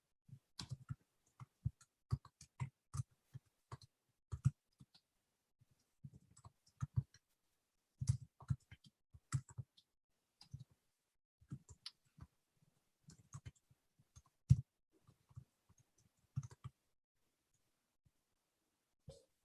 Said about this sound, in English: I'm just going to type something in